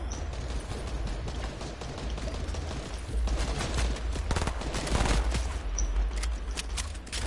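Dense, continuous video-game gunfire with rapid bursts and booming shots aimed at a tank, loud and sustained throughout, growing heavier in the second half with only faint hints of voices.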